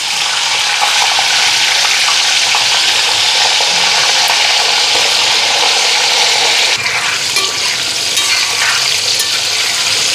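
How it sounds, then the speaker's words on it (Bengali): Potatoes frying in a wok, a loud continuous hiss and crackle of hot oil close up, with occasional stirring scrapes and no talking. "আলুটা ভালো করে লাল করে ভাজা নি"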